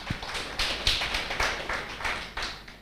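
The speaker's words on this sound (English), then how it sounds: "Another round of applause" Scattered applause at a university business symposium: a thin round of claps with sharp, evenly spaced slaps over soft room noise, and no talking.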